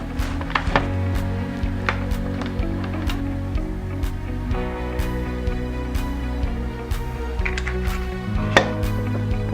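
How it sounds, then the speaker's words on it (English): A food processor pulsing basil pesto ingredients: a steady motor hum with a strong low drone, overlaid by scattered sharp knocks and clatters of blades and bowl. "We're going to pulse the ingredients together until they're finely chopped."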